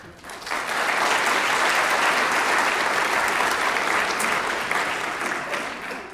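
Sustained applause from an audience at an evening oration event, many hands clapping densely and evenly for about six seconds, swelling in quickly and tapering slightly at the end.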